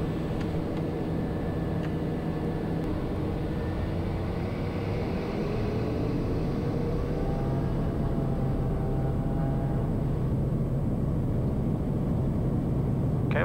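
Steady loud engine drone inside the cockpit of a Piper Meridian turboprop during its takeoff roll at night, a constant roar with tones that slowly rise as the aircraft gathers speed.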